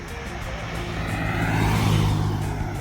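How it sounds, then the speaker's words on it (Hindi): An overloaded vehicle passes on a road near Udaipur, a loud, close engine roar that swells to a peak midway and then eases as it goes by, over steady road and wind noise. "ये ओवरलोड आ रही है गाड़ी एक।"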